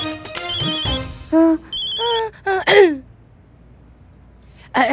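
A phone rings for an incoming call in a Hindi TV drama scene, a run of repeated electronic ringtone bursts close and loud, followed by a brief gasp-like vocal sound and a final short ring burst.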